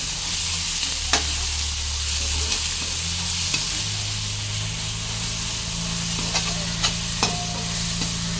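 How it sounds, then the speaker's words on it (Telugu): Masala paste fries in oil in a pan for an ivy gourd (dondakaya) masala curry: a steady, close sizzle with occasional clicks of stirring and a low hum underneath, with no voices. "మసాలా పేస్ట్ వేసుకొని ఇది కూడా బాగా వేగనివ్వాలి ఫ్రై చేసుకోవాలి"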